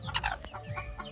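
A small female old-lineage native hen about one and a half years old, a good brooder, clucks in a short run of close, clear calls with a faint low background hum.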